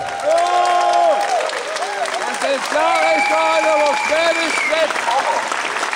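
A crowd at a protest rally in Schorndorf claps and cheers loudly, with a voice talking over the applause throughout, the noise rising and falling in waves.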